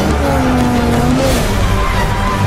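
A car in stunt driving skids with a sustained tire squeal over a loud engine roar, close and continuous.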